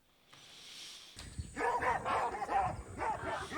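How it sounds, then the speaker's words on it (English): Harsh, chaotic screeching and barking calls from a fighting baboon troop, loud and overlapping, erupting after a quiet start. "we got all the baboons like going and fighting and all the noise"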